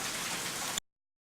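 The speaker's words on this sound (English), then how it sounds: "It's starting to rain." Rain begins falling on a hillside road in Bedugul, Bali, a dense steady hiss of drops on surfaces lasting under a second before cutting off.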